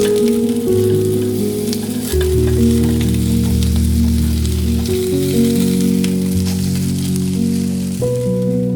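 Food fries in a hot pan, giving off a loud, continuous close-up sizzle that runs under prominent background music, with no voices.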